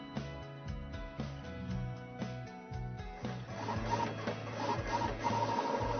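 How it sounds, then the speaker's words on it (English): A Roland GX24 vinyl cutter cuts a graphic from heat transfer material, giving a quiet run of mechanical ticks, whirs and stepping motor pulses that grow into a busier, steadier buzz, with no talking. "The Gx24 will cut the graphic just as you designed it."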